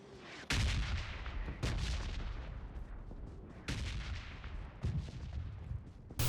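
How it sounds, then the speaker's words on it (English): Repeated loud blasts and gunfire in the battle-royale game PUBG Mobile, several sharp bursts roughly every second or two over a constant rumbling din, close and heavy with no talk. "A lot of explosion around."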